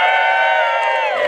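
A crowd at an outdoor lumberjack show cheers with loud, overlapping whoops and shouts that swell together for a moment.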